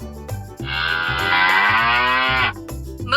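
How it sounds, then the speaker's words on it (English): A single long cow moo, loud and close, sustained for about two seconds over soft background music, with no talking. "Cow."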